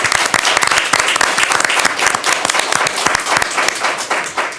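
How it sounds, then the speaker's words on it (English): Loud, dense applause from a school committee gathering honoring teachers and officers, steady claps filling the room throughout with no one talking over it. "Let's give them a nice round of applause"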